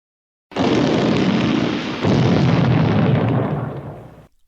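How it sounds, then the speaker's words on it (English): A sudden, loud, sustained blast-like roar evoking a 1901 oil well gusher erupting under high pressure, starting abruptly after a brief silence and holding steady with a slight renewed surge midway before cutting off. "an oil well exploded with so much pressure that it shot oil 150 feet into the air"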